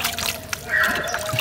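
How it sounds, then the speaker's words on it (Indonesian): Water poured by hand onto a freshly replanted miana plant, a short close trickle and splash into potting soil with some faint background noise and no speech. "kita siram sekali aja"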